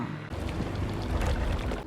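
A boat arrives across the water in a spy film scene, giving a short, steady rush of engine and hull noise with splashing, fairly loud and continuous after a brief quiet start.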